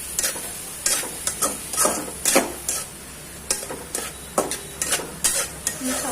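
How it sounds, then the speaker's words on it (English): Onions and capsicum sautéing in a pan for veg spring rolls, with repeated scraping and stirring strokes over a steady close sizzle, no talking. "we saute it for some time."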